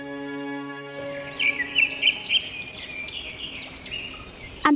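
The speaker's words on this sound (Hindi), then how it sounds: "तभी एक चिड़िया उसके आसपास आकर उड़ने लगी।" A small bird chirps in a forest with quick, bright, high tweets in short bursts. A soft sustained musical tone fades out just before the calls begin.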